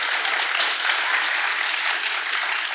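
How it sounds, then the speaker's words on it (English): A school assembly audience gives students a round of applause, dense sustained clapping from many hands filling the hall at an even level throughout. "Let's give them another round of applause."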